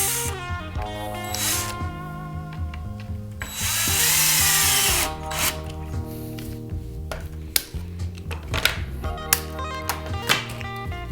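A power drill drives decking screws into wood for a raised garden bed, with whirring bursts rising and falling in pitch, one longer sustained spin, and scattered clicks and knocks, close by.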